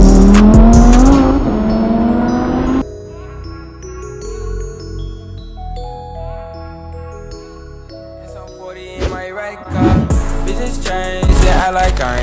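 A new Lamborghini sports car roars loudly at the start, then settles into a quieter, steady engine hum while driving before revving up again in sharp bursts near the end.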